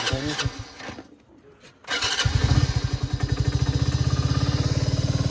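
A 100cc motorcycle engine sputters close by in cold high-altitude air on a Leh Ladakh road trip and almost stalls. It then catches and settles into a loud, steady, rapid chugging as the revs are held up.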